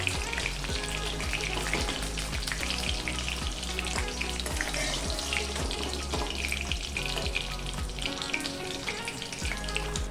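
Green chillies frying in oil in a pan for a tamarind leaf and tomato chutney, a dense continuous crackling sizzle, loud and close, with steady popping throughout.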